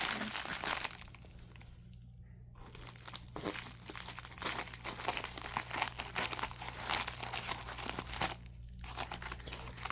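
Plastic packaging around a comic being cut and torn open close by, with soft, continuous crinkling, tearing and scraping and a few brief quiet gaps.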